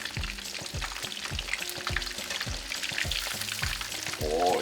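Breaded steak fries in a pan, a steady close sizzle and crackle sitting beneath rhythmic plucked music, with a brief louder burst near the end.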